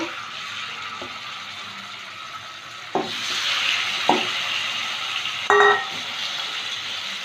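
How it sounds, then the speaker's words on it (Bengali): Chicken pieces fry in hot oil with a soft, continuous sizzle that swells midway, broken by a few sharp knocks and clatters of utensils against the pan; no one speaks. "বাকি চিকেনের টুকরোগুলো ভেজে নেব।"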